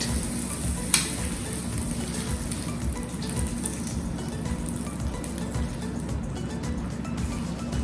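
Stirring semolina khichdi in a pan, a steady soft sizzle and scraping under a constant frying hiss, with one brief sharp clink of a spoon against the pan early on.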